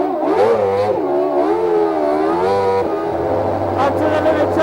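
An F1 racing car engine revs hard toward the limiter, a loud, close, rising and falling whine with repeated surges and a drop before climbing again.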